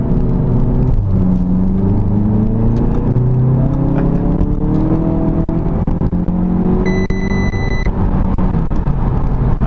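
A 2015 Audi TT S Line Quattro with a 2.0 TFSI engine and S Tronic gearbox pulls hard in second gear, its loud engine note climbing through revs with rising tones, close and continuous without talk.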